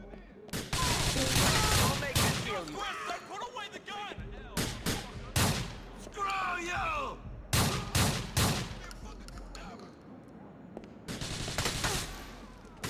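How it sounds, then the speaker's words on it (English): Loud shotgun blasts in Grand Theft Auto IV, several separate booming shots spaced by short gaps, mixed with other gunfire and someone talking between them. "Lot of spread on this video game shotgun, as you would think."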